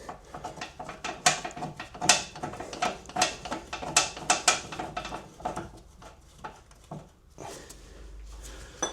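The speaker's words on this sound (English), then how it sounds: "Now back on this side and put the top bolt in, and this one isn't the easiest" Bolts being fitted during an engine swap on a Porsche Boxster, with a steady run of close metallic ratchet clicks and clanks of tools against metal, fading to quieter rustling near the end.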